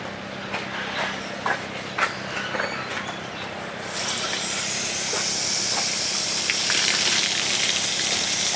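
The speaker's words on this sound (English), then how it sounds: "And then I just rinse my jar out on top of it." Water from a rinsed seed jar pours onto a window-screen strainer while tomato seeds are being saved, a steady close hiss of running water that swells louder partway through, with a few soft knocks early on.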